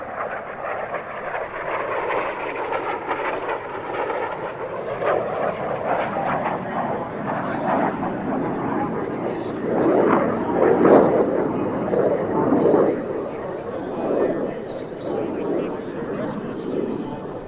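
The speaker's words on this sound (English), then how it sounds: "Here he is from the right, AQRD's F-5 B model." Fighter jet roar from an F-5B Tiger making a flyby at an air force base air show, a sustained broadband rumble that swells louder near the middle as it passes, with an announcer talking over it throughout.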